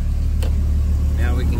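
A car engine idles with the air conditioning running, the vehicle in neutral with the parking brake set, giving a steady, close, low rumbling hum throughout, with a faint voice briefly over it.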